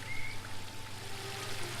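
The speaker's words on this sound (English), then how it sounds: "The waterfall and I have been neighbours for so long that I don't really hear it anymore." Steady, soft rush of flowing water from a waterfall in a fantasy video game set in a wooden elf realm, a continuous wash with a low hum beneath and no talking.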